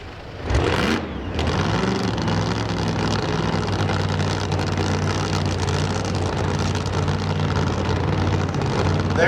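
A drag racing car engine starts up and settles into a steady, rumbling idle heard from a distance at a street car drag racing event, continuous and moderately loud.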